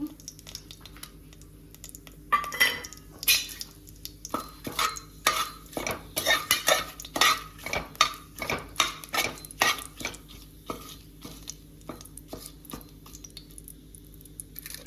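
Bay leaves roasting in a pan for a healthy breakfast dish, stirred with a utensil in a steady run of clinks and scrapes against the metal, close and clear over a faint sizzle.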